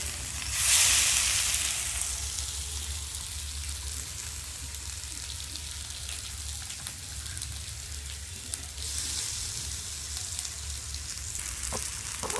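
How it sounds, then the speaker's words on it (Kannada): A Sunday special fish tava fry sizzles at a soft, steady level, with a brighter spit of hissing near the start and a low hum underneath. "ಫಿಶ್ ಫ್ರೈ ಮಾಡ್ತಾ ಇದ್ದೀರಿ. ಶಿಸ್ಲಿಂಗ್ ಸೌಂಡ್."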